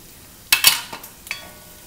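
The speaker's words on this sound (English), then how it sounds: "what you want to do is add the ginger, garlic, and the green chilies that I finally minced up into this pot" Ginger, garlic and minced green chilies hit a pot of frying onions, giving a few sharp sizzling bursts with light stirring clatter, close and brief, no talking.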